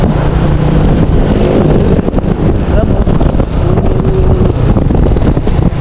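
Heavy, cold wind buffets the microphone in a loud, continuous rumble with no letup, along a highway to Antipolo, Philippines.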